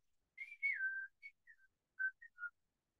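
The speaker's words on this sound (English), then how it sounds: "I hear a zookeeper whistling in my ear." A person whistles a short tune: a long sliding note followed by several short chirpy notes, clear and alone.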